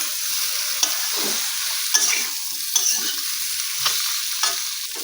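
Potatoes and sliced flat beans are stirred with spices in a hot pan, a spatula scraping in several distinct strokes over a soft, continuous sizzle.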